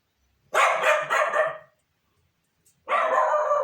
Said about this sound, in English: my dog is making a whole heap of noise